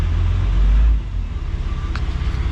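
A 12 valve Cummins diesel engine in a hotshot truck idling up close, a loud, low, steady throbbing rumble with a brief swell early on.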